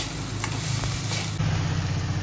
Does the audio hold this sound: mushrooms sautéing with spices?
yes